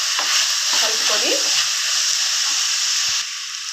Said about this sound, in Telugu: ఉల్లిపాయలు ఎర్రగా వేగిన తర్వాత వేయించుకున్న దొండకాయ వేస్తున్నాను. దొండకాయ వేసుకొని ఒకసారి కలుపుకొని